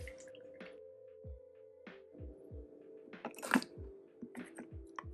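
Red potion liquid drips through a coffee filter in a kitchen, giving soft irregular drips and small wet squishes that run close and faint over a low steady hum, with one brighter splash near the middle.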